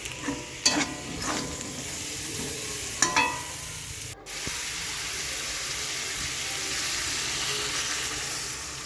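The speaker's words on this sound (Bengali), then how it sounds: "জিরে গুঁড়ো ধনে গুঁড়ো দিয়ে মশলাটাকে ভালো করে কষিয়ে নেবো" A paste of ground cumin and coriander fries in a pan with a steady, close sizzle, with a couple of brief scraping stirs early on and otherwise continuous hissing.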